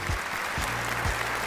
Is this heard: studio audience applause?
yes